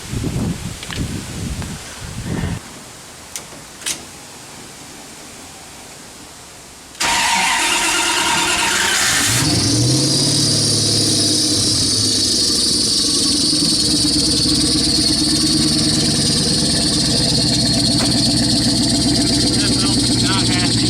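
A turbocharged 5.2 Dodge Dakota truck cranks with a few short catches before the engine fires and settles into a loud, steady idle with a prominent belt whine, heard up close with voices talking during the first seconds.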